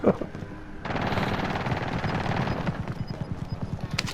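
Call of Duty Modern Warfare gunfire: a sharp opening shot, then a long burst of rapid automatic fire with evenly spaced reports, loud and continuous to the end.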